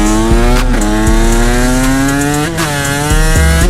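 A Suzuki RM125 two-stroke dirt bike engine screams close and loud, its high buzzing pitch rising and dipping with throttle blips across a few seconds.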